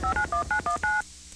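Six quick telephone dialing tones beep in a steady rhythm in a law firm radio ad, clear and close, then cut to a faint hum.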